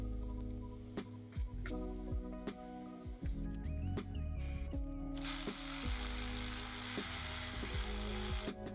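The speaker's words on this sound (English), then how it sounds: "We're going to run the bolt through and finish it up with a ratchet." A hand ratchet clicks in quick bursts, tightening the thermostat housing bolt on a 2012-2020 Chevy Sonic 1.8L engine, close and crisp, followed by a steadier hissing buzz near the end, with no talking.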